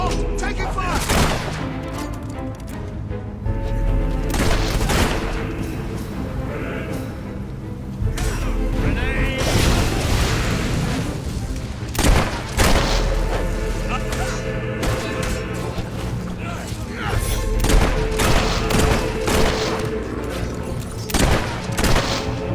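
Heavy, sustained gunfire rattles through a Fable III battle, dense volleys and bursts layered with crashes and shouting voices, loud and continuous throughout.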